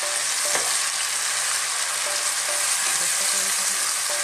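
Tomatoes fry with onion in a pan for sautéed bitter melon, a steady close hissing sizzle broken by a few light spatula stirs, with no talking.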